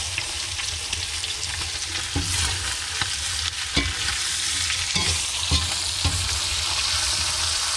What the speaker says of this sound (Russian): Чуть лук обжарим.